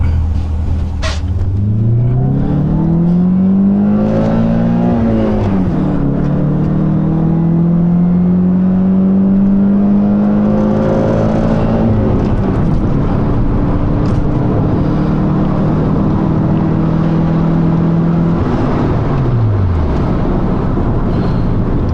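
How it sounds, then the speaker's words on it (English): A Fiat Palio 1.6 engine with an aftermarket exhaust revs up and down through several long climbing sweeps, with a loud, throaty exhaust drone that rises and falls over a steady rumble. "So this engine is known to make a very sporty sound."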